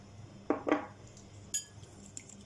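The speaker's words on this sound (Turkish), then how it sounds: "Şöyle bir birbirine geçecek şekilde karıştırıyorum" A utensil clinks against a bowl while yogurt, egg and oil are mixed together, with a couple of quick knocks followed by lighter, fainter taps.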